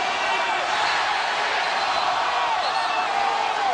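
A basketball arena crowd jeers LeBron James late in a first-quarter game against the Pistons, a dense, steady roar of many voices filling the space without a break.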